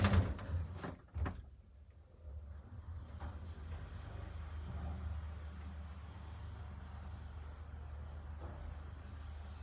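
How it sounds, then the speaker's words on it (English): A Fain traction elevator door in an apartment building in Madrid is pulled shut, with a few sharp clattering knocks and a thud at the start, then a steady low mechanical hum as the car runs. "So used to having to grab something to pull the door the rest of the way shut."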